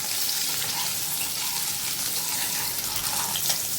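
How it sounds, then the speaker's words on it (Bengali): Eggs frying in hot oil in a pan for an egg curry, a dense, even sizzle that runs close and steady throughout with no talk. "এইভাবে আমি ডিমের চারপাশটা ভালো করে ভেজে নেব"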